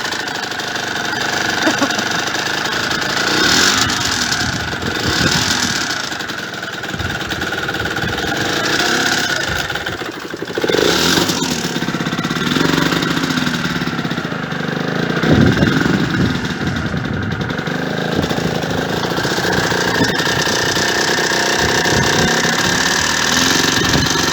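A cold Yamaha DT motorcycle engine idles while warming up, a loud steady rumble that wavers slightly in pitch throughout with faint knocking.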